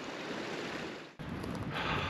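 A mountain waterfall above Lower Fay Lake in Rocky Mountain National Park roars as a steady, broad rush of falling water, with wind buffeting the microphone partway through.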